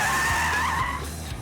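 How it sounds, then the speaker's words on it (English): Tires squeal loudly as a car is thrown into a skid on a driver-training skid car, the instructor simulating loss of control; a sustained, close screech sliding in pitch over a low engine rumble. "At the push of a button, the instructor can simulate skids."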